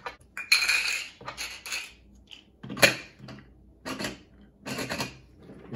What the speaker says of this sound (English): I've got a ton of dice in this bag.